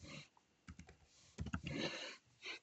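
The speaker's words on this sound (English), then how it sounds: "So then we can type in something." Quiet keyboard typing while entering heading text in a design app, a few scattered soft keystrokes and a short cluster of taps, faint and close with no talking.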